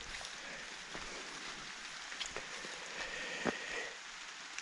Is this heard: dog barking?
no